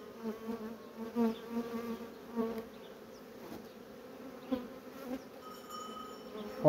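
Honeybees hum steadily around an opened hive frame during spring colony expansion after wintering, a close, continuous buzz with individual bees flaring louder as they pass near.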